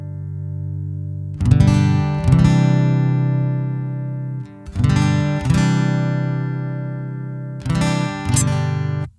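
Acoustic guitar through a Laney A-Solo combo amp with the bass EQ turned fully down, three strummed chords each ringing out and slowly decaying, played alone and close.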